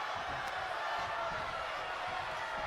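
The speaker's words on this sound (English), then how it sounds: "You could hear the swell in the crowd." A wrestling arena crowd roars in a steady, loud wash of noise during a women's championship match, sustained throughout without distinct peaks.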